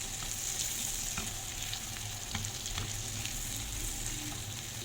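Duck liver frying in a pan with green pepper and garlic, a steady close sizzle with scattered crackles and pops running the whole time, and no voices.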